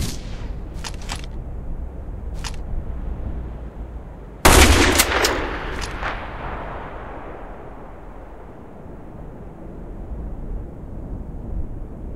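Sniper rifle fire in the online shooter Black Squad: faint sharp cracks early on, then one loud, close shot with a ringing tail around the middle, over steady game background noise.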